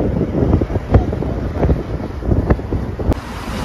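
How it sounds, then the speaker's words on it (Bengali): Rushing river water roars steadily close by, with gusts of wind buffeting the microphone throughout. "কি ভয়ঙ্কর লেভেলের ঢেউ।"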